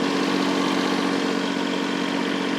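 A Kubota tractor's diesel engine runs at 2,000 RPM during loader work, a loud, steady, even drone close by that holds constant throughout with no talking.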